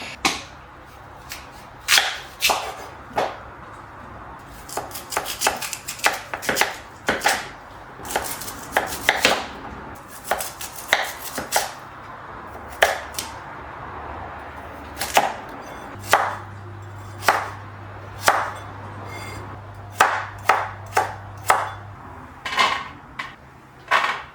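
A knife chops potatoes rapidly on a cutting board, sharp knocks coming in quick bursts and irregular runs, close and loud with no talking.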